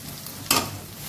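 Curry leaves dropped into hot oil in a pan give one quick, bright sizzling burst over a steady low frying hiss.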